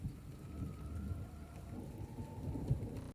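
Soft, steady patter of rain against a window, close and even, with a faint low rumble beneath, during a downpour on a farm.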